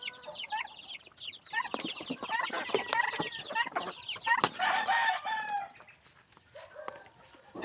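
A flock of chickens clucks and squawks busily up close, with overlapping calls that thin out toward the end.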